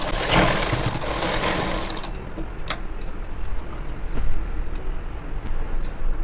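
A sewing machine stitches gathered pant fabric in a rapid, buzzing run for about two seconds, then drops to quieter mechanical ticks and clicks.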